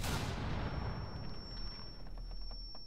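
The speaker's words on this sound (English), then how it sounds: "That might have been grenade though." A grenade blast in Rainbow Six Siege: one loud, heavy boom at the start that rolls into a long rumbling decay, with a thin high whine ringing over it, no voices.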